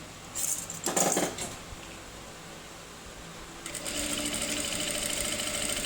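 A sewing machine runs in two bursts while stitching a seam around a pre-panel backpack, first a short loud whir, then after a pause a longer steady run. No one speaks.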